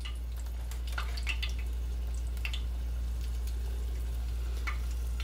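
Egg rolls frying in hot oil to brown the wrapper, a soft, steady sizzle with scattered crackles and pops over a low background hum.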